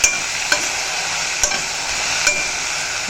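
Okra sautéing in a pan over a low flame, a steady close sizzle broken by a few sharp spatula taps against the pan, with no voices.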